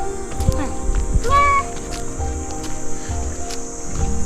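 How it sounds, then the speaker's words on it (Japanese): A single short cat meow rings out near the start, amid rustling and people talking nearby on a low mountain hike. "なんかニャオって猫の声聞こえた"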